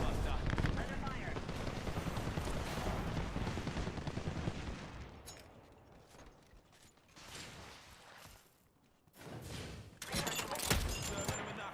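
Rapid bursts of video game gunfire in a squad shooter, loud and dense at first, then thinning out and breaking into scattered volleys, with speech-like chatter mixed in.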